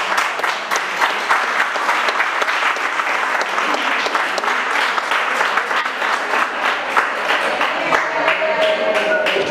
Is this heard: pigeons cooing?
no